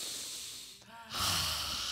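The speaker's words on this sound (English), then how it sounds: "And everybody take a big yawn." A church congregation yawns together, a breathy drawn-out exhale followed by a louder, broad rush of many voices and breaths filling the room.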